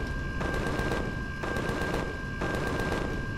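Turrets firing in the space survival game Empyrion, a dense continuous burst of rapid automatic gunfire with steady pulsing rhythm, loud and alone.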